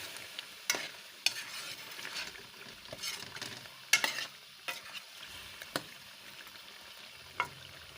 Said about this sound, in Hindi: अब इनकी अच्छी तरह बुनाई करती हूँ